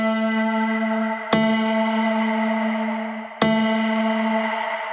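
Sustained harmonic tone run through the PhonoLyth Cascade reverb app with modulation applied to its diffuser stages, giving a shimmering, slightly wavering wash that is struck again twice with sharp re-attacks.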